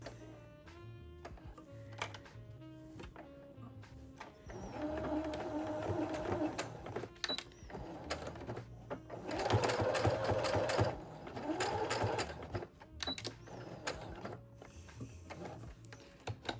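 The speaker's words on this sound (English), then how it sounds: "We're gonna sew right along the top here to secure the keychain in place." A sewing machine stitches along the top edge of a fabric wristlet keychain, starting after a quiet moment with irregular whirring bursts of rapid needle clatter, close and fairly quiet.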